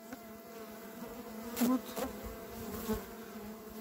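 Honey bees buzz steadily at an apiary where a colony is preparing to swarm, a close, continuous drone with a brief louder pass midway and a short spoken word.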